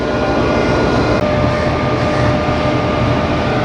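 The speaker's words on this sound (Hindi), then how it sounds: "ये आ गया भाइयों आज का लोकोमोटिव GEU 409012।" Diesel locomotive GEU 409012 of the Shalimar Express rumbles in, its engine drone loud, near and continuous, with a low mechanical roar throughout.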